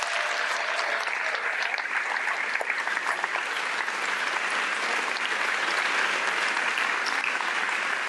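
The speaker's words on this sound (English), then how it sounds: "Yes, give them a nice round of applause." A large audience at the Arizona Teacher of the Year awards ceremony applauds the selection panel with dense, steady clapping that holds at an even level for the full stretch, with no talk over it.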